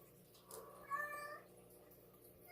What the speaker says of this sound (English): It's always freaking cats being loud.